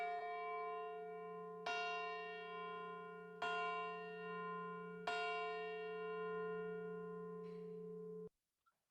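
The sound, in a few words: out-of-tune church bell ringing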